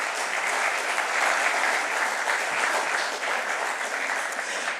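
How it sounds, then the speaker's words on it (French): Audience applause at an evening conference on AI fills the room as a dense, steady wash of many hands clapping, sustained at even loudness from start to finish with no talk. "que vous pouvez également applaudir"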